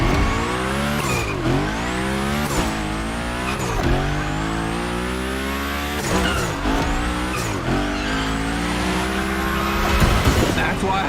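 A car sliding through repeated drifts in The Crew Motorfest, engine revving with rising and falling pitch and tire squeal over each slide, with a voice talking over it.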